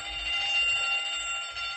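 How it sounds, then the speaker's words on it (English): An alarm bell at a zoo rings in a steady, continuous shrill peal, heard alone and unbroken for the short stretch. "You get that alarm?"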